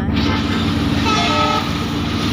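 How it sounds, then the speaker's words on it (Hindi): A train rolls past with a continuous loud rumble and a brief horn toot partway through, heard close by on a trip home in Guwahati. "सामने से ट्रेन चल रहा है।"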